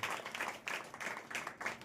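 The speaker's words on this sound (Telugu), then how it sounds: "కొట్టి చప్పట్లు గట్టిగా యేసుని మహిమపరుస్తూ" A church congregation claps hands in rhythmic bursts while praising during worship, heard faintly and somewhat distant.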